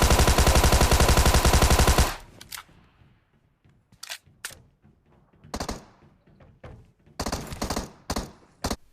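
Gunfire in the mobile game PUBG Mobile: a loud, dense automatic burst for two seconds, then scattered sharp single shots and short volleys at varying distances, with near silence between.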